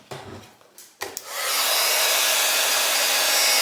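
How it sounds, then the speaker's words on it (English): A heat tool used to melt embossing powder on a card switches on after some soft handling noises and blows steadily with a loud, even, airy whir, close up and uninterrupted. "And now we'll get our heat tool."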